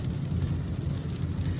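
Heavy tropical rain pours down in a residential area of Penampang, a dense, steady roar of rainfall close by, with the low hum of passing traffic beneath it.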